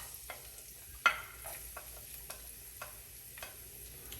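Garlic frying in a pan for lasagna, a faint steady sizzle with soft scrapes and light taps of a utensil stirring, close and quiet.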